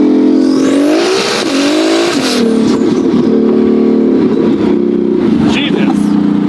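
A custom twin-turbo Ferrari F12 engine, built over two and a half years, revs hard on a night drive to a car meet. Loud, close blips rise and fall repeatedly, with a harsh, angry tone throughout.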